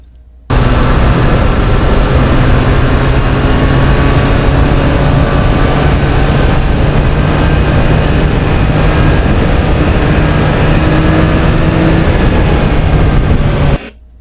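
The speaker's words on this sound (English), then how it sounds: "I just never get sick of that MT-09 quick shifter." A 2020 Yamaha MT-09 motorcycle with a quick shifter runs steadily on a mountain road, giving a loud, continuous engine drone with rising tonal lines through the gears, alone without talk.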